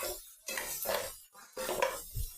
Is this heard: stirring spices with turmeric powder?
yes